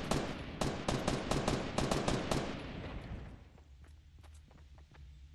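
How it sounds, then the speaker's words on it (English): Enemy gunfire in a video game, aimed at trees: a dense rattle of rapid automatic shots for about three seconds, then fading to scattered faint pops. "They're literally wasting all their ammo shooting these fucking trees out."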